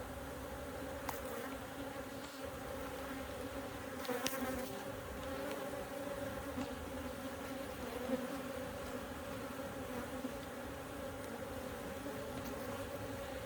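Angry honeybees swarm around an opened hive, a dense continuous buzzing drone with individual bees zipping close past, steady and fairly faint with no talking.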